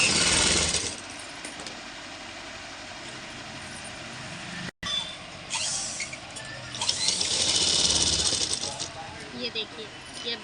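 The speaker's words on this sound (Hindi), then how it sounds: "और अब हम इसे स्टिच कर देंगे। इस तरह से घुमा घुमा के स्टिच कर देंगे।" A sewing machine stitches a blouse in short mechanical runs, a whirring, rattling burst at the start and longer, louder bursts later, separated by quieter handling noise.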